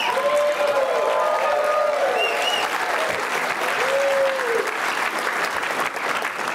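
A large audience at a business association's annual gala applauds steadily for the former three-term city mayor Mr. Bloomberg, a continuous full round of clapping with faint voices mixed in.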